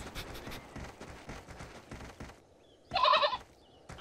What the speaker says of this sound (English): Oh dear, it's a mother goat with her children.